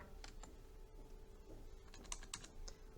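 Typing on a computer keyboard while filling in a Word form, with scattered key clicks and a few sharper taps at an uneven pace, close and fairly quiet, no talking.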